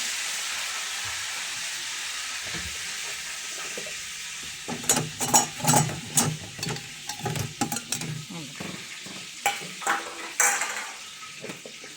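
Curry leaves and spices frying in a pan with peanuts, carrots, potatoes and brinjal for mixed vegetables: a steady hiss, then, from midway, a burst of crackling sizzle with repeated sharp pops and clatters of stirring, loud and close, no talk.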